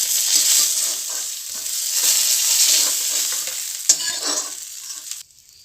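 Two fish heads fry in hot oil in a pan, a steady bright sizzle with faint stirring scrapes, close and continuous for several seconds before cutting out.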